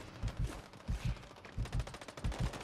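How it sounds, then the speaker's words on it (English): Repeated short bursts of automatic gunfire in the video game Modern Warfare III Warzone, thudding in regular pairs of shots, moderately loud with no talking over them. "They're shooting the other team."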